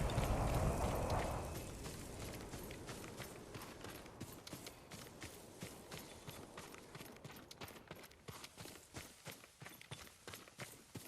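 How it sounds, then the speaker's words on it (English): A horse's hooves clip-clopping at a steady trot, starting with a loud rumbling burst then settling into a regular, fairly close beat of hoof strikes on hard ground, with no speech. "Yuriko's horse."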